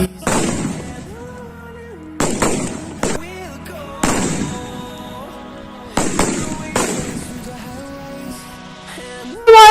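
Several loud sutli bomb firecracker blasts go off one after another at irregular intervals during Diwali, each sharp bang trailing into a rumbling echo, with music playing underneath.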